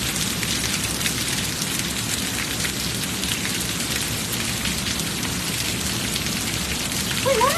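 Heavy rain in Dubai pours steadily onto surfaces nearby, a dense loud hiss of drops throughout, with a faint distant rumble and no clear talk.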